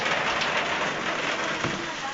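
Rain falling outside a dark house during a power outage, a steady dense hiss of drops on surfaces throughout, with a faint low rumble.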